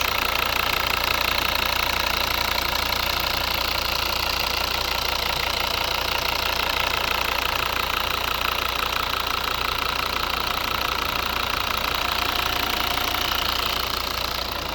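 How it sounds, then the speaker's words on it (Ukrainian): A 2011 Volvo V70 2.0 D4 five-cylinder diesel runs steadily at idle, a continuous close, loud knocking engine drone with no talk over it. "Ось робота двигуна."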